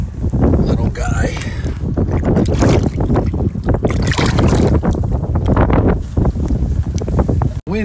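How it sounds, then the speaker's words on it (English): Strong wind buffets the microphone on an Atlantic City salt marsh near a creek mouth, a loud, continuous roar with gusty surges throughout, mixed with boat and water noise. "Wind picked up like absolutely crazy."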